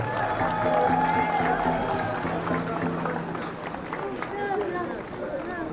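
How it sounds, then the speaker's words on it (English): Outdoor crowd at a Bristol boycott protest clapping for workers, steady applause mixed with cheering while a speaker's voice carries over it. "Round of applause for the long-suffering workers."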